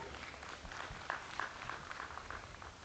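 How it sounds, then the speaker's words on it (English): Audience applause at a junior and open Boer goat show at a national stock show, a steady, fairly faint patter of clapping across the whole stretch with a few sharper claps standing out. "give them a nice round of applause if you would."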